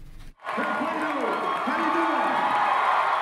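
A crowd of supporters at a Beto O'Rourke rally in Texas cheers and shouts in a loud, continuous roar, with whoops and raised voices rising over the steady din.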